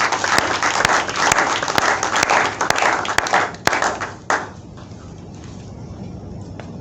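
A church congregation claps and applauds loudly and steadily for about four seconds, then the clapping thins out and fades to a quiet room tone.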